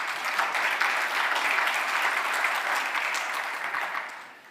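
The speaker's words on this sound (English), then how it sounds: "A round of applause, please." Audience at a corporate Absa budget event applauding on cue; a full, even wash of crowd clapping, steady and loud, tapering off at the end.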